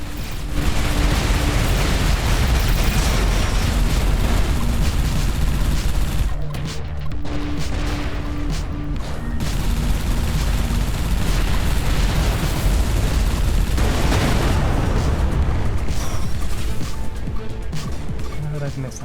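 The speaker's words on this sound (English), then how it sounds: "Where are those missiles coming from?" Dense, continuous barrages of missile explosions and rapid gunfire fill a space battle in the game Everspace 2, loud and relentless with only brief dips, and a voice speaks beneath the din.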